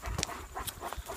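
A dog in a home with several dogs, one of them pregnant, gives a few short, fairly close vocal sounds, soft whimper-like noises and panting, with no talk over them.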